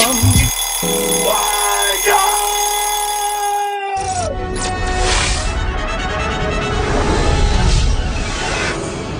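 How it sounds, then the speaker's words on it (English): A loud electronic alarm rings continuously, a bright tonal pattern repeating steadily over a busy background for several seconds. "now I think it's time to ring the alarm"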